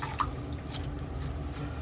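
Water dripping where a soap dish sits soaking, a faint drip near the start over a steady low background hum, with soft faint sounds continuing after.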